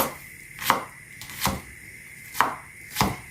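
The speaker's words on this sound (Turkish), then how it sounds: "Soğanını doğruyorum şimdi." A knife chops onion on a cutting board in four distinct, evenly spaced knocks, close and crisp against a quiet kitchen background.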